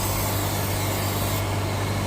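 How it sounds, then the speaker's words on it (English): An aerosol can sprays steadily into the cabin air filter box of a 2023–2025 Kia Sportage, a loud continuous hiss over an engine's low hum, cutting down slightly near the end. "and spray right into that box."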